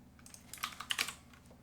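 Quiet keys tapped on a computer keyboard while entering a resale listing, a faint, uneven run of soft clicks and clacks with no voices.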